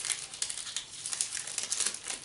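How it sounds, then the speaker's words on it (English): Paper being cut with scissors in a home kitchen while sizing brown paper to line a baking pan: a close, steady run of crisp snipping and crinkling rustles, with no talk. "Get your scissors and you cut where you think your middle is."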